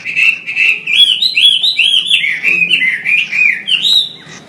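A caged Chinese hwamei sings loud, continuous whistled phrases of rapidly varying, slurred notes, close up and with no talking.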